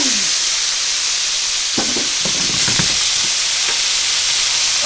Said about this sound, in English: and it's going to be sizzling.